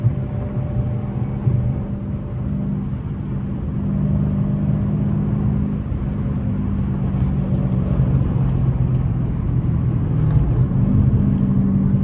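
Dodge Scat Pack and SRT8 cars run fast on a highway, a steady loud engine drone and road rumble from inside the car that swells slightly partway through, with no talking.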